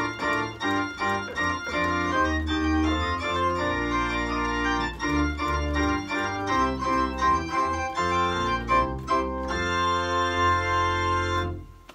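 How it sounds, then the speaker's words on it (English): Handel's The Arrival of the Queen of Sheba rendered on organ as a jolly wedding processional: quick repeated notes in bright, lively runs over a bass line, steady and loud with no voices, ending with a final cutoff. "another very popular one is The Arrival of the Queen of Sheba"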